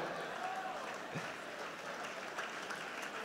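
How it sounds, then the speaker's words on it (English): An audience at an education event gives a speaker a round of applause, heard as a faint, steady wash of clapping from some distance. "Can we have a round of applause for Mr. Babs Olugbemi?"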